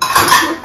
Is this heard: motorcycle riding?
no